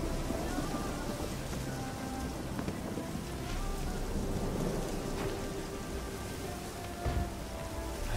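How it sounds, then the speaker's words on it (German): Rain pouring down with thunder in the video game Witcher 3: a continuous loud downpour pattering on surfaces, low rumbles rolling underneath and a heavier thunder crack near the end. "es fängt an zu regnen"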